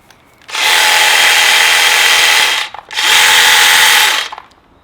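Stihl commercial battery hedge trimmer running loud and close in two bursts of steady, buzzing motor and cutter noise, each about two seconds long with a short stop between them.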